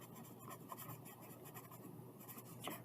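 A pen writes on paper, quiet close scratching strokes in short uneven bursts over a few seconds, faint and with no voices.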